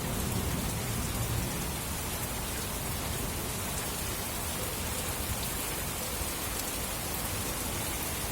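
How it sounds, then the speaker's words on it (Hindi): Heavy rain with a hailstorm in the Uttarakhand hills pours as a dense, steady wash of noise, loud and unbroken throughout, with no voices. "तेज ओलावृष्टि व बरसात के साथ ठंडी हवाएं चलने लगी हैं।"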